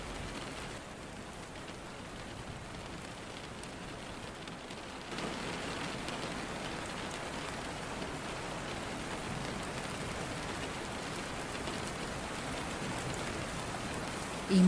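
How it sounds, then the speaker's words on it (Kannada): Monsoon rain falls steadily onto surfaces, a constant soft hiss with scattered drops that swells slightly partway through, heard alone without any speech for around fifteen seconds. "ಈ ಮುಂಗಾರು ಮಳೆ ಎಷ್ಟು ಚಂದ ಅಲ್ವಾ?"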